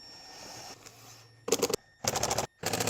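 Power driver setting screws back in during a repair for a water leak, sharp rapid rattling bursts that start and stop three times, loud and close after a quiet stretch.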